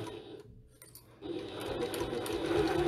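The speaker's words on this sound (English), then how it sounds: "I'm sewing directly on top of the stitches" A sewing machine stitches piping onto a handmade bag, a short pause and a few clicks giving way to a close, steady whirring run that grows slightly louder.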